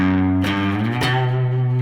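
Distorted electric guitar playing a riff, sustained power chords with a strong effects-unit sound, two sharp strums marking chord changes across a loud, continuous passage.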